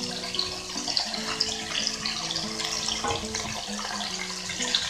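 Chopped tomato, green chillies and curry leaves frying in a pan, producing a steady, close sizzle and bubbling with scattered small pops and no talking.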